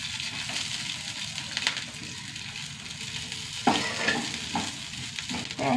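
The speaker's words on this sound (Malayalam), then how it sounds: "തേങ്ങ നന്നായി വറുത്തെടുക്കട്ടെ കേട്ടോ." Coconut pieces dry-roasting in a pan with dried red chillies, whole coriander and fenugreek, giving a steady close sizzle with scraping stirs and occasional louder clatters, no voices.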